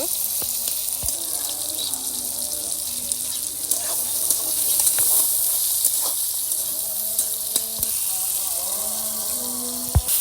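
Tomatoes lightly frying in a pan for a chicken and vegetable curry give off a steady, soft sizzling hiss, with a few faint clinks over it.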